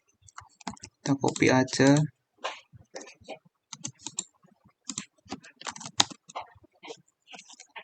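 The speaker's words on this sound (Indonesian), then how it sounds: "Kemudian ketikkan ini" Keystrokes of commands being typed on a computer keyboard during network configuration, a quick run of clicks mixed with a person speaking nearby.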